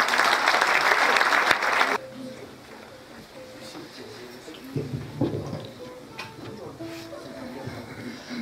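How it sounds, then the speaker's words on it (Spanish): An auditorium audience at a tribute evening bursts into loud applause to welcome performers, the clapping cutting off abruptly after two seconds and giving way to quiet room noise and faint voices. "Recibámoslos con fuertes aplausos."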